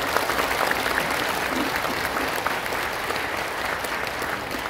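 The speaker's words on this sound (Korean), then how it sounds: "큰 박수로 환영해 주시면 감사하겠습니다" Sustained applause from an audience welcoming guests at a New Year ceremony of a Korean religious district, a dense, steady clatter of clapping hands that fills the whole stretch without pause.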